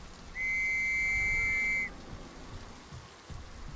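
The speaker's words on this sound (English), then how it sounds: "Okay, let's use the whistle." A single long, piercing whistle blast sounds in the World War 1 horror survival game Trenches, held for about a second and a half over faint rain-like ambience.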